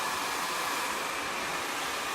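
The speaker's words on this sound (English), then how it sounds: "I'm cupping underneath the dryer, with the dryer under the brush and blowing the ends towards my face." Hair dryer blowing steadily on medium heat while styling bangs with a brush, a constant close whoosh of airflow with no pauses and no voices.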